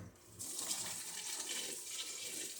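Sugar water pours into a carboy over fruit in a continuous, splashing gush from start to finish, close by and fairly loud.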